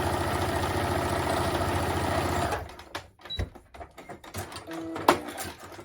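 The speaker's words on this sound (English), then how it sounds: "I'm going to show you what happens if you sew it on a straight stitch" Sewing machine running a straight stitch on jersey fabric, a steady fast mechanical whir for the first half that stops abruptly, followed by quieter clicks, handling noises and a short tap.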